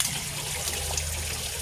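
Water in a flowing-water silkworm farming setup drips and trickles down steadily, a continuous close splashing wash with no talking.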